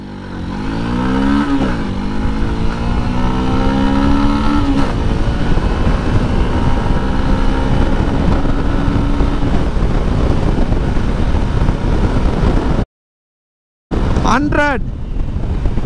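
A Honda Unicorn 160cc motorcycle accelerates hard from standstill toward 100 km/h, engine note climbing through several gear changes with rising whine, heavy wind rush over the microphone, loud and close, briefly cutting out near the end.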